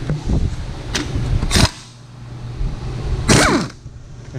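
A pneumatic impact wrench buzzing on a 19 mm nut on an Acura Integra torque mount, two sharp short bursts about two seconds apart over a steady background hum, close and loud.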